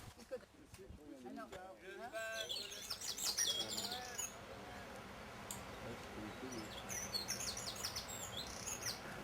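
Songbirds chirp and call in the Goëlo valley, bright tweets repeating over steady outdoor background noise, with people talking through much of it.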